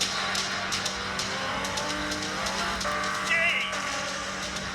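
A 1970 Porsche 917K racing car with a 5-litre 12-cylinder engine drives on track, its engine note rising and shifting with tyre noise, heard under someone speaking.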